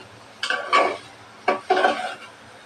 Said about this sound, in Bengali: দিয়ে দেবো কাঁঠালের বিচি। মশলার সাথে ভালোভাবে মিশিয়ে নেব।